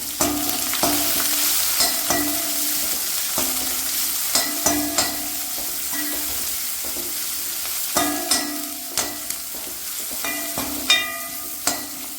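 Curry leaves and finely chopped shallots fry in a pan, making a continuous close sizzle broken by frequent scraping and clinking from stirring, with no voices.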